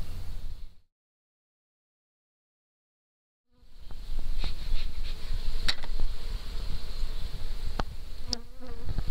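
Honeybees buzz around a hive comb in a close, steady, dense drone that cuts out briefly into silence, then resumes just as loud.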